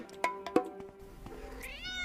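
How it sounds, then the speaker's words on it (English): A cat meows at a cat door, two short close meows followed by a longer rising, wavering cry, with quiet room noise between them. "Thank you so much, Austin, for summoning a cat from the cat hole."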